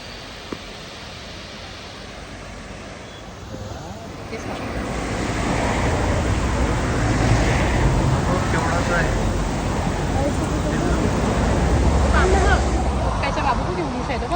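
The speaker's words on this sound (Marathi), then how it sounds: "आणि पॉईंट फिरता फिरता हा सेकंड वॉटरफॉल." Water pours steadily at the second waterfall of a tourist viewpoint on a Kerala trip: a dense, continuous rushing roar that swells louder after the first few seconds and holds at a constant level, with possible faint voices beneath it.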